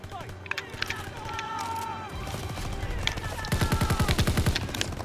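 Gunfire in the Call of Duty WWII liberation mission, dense rapid automatic bursts and scattered shots over explosions and battle noise, growing louder and steadier toward the end, with someone talking over it.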